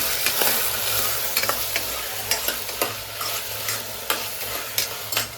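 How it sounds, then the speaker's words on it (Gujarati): Peas, potatoes and brinjal fry in a pan with a steady sizzle, while repeated sharp scrapes and clinks of stirring come close and clear. "તો એમાં વટાણા બટેટાને રીંગણા નાખી દીધા છે મેં. થોડુંક એને કકડાવવાનું છે."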